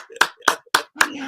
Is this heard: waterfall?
no